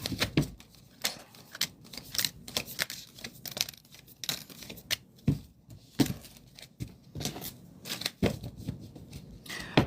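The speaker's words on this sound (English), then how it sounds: "I'm just giving a good shuffle." A deck of cards being shuffled on a live stream gives repeated riffling and snapping bursts, with sharp clicks and papery rustles at an uneven rhythm, close and moderately loud, with no talk over it.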